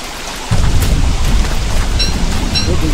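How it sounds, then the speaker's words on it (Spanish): Steady rain pours down with a low rumble of thunder in the video game Don't Starve, the downpour swelling in loudly after a quieter first half second and continuing evenly. "Y todavía sigue lloviendo, o sea, ¿no es normal?"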